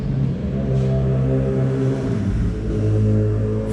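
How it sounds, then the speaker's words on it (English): A neighbor's four-cylinder car engine of about 200 horsepower revs hard nearby, a steady, loud low rumble with rising and falling harmonics throughout. "Hear my neighbor revving out his"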